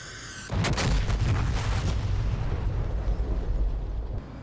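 A laser-guided bomb from an F/A-18 Hornet strikes in a DCS combat flight game: one loud close explosion booms in suddenly, then a heavy rumbling roar slowly decays over several seconds.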